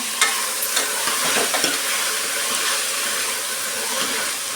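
Sambar ingredients fry in oil in a pan, giving a continuous close hiss and sizzle with a few light stirring taps, no voices over it.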